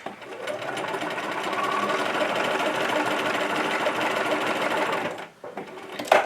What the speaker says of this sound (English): I'm going to bring this around and just kind of chain stitch.